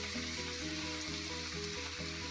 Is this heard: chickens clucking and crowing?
no